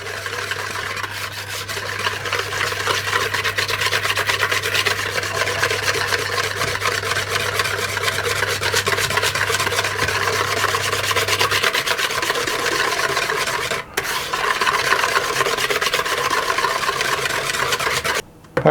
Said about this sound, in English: Now I'll whisk that until that sugar is broken up and fully combined.